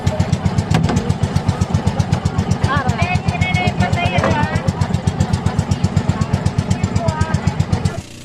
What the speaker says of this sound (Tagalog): ang dami-dami po ditong sasakyang pandagat, mga tinatawag na motor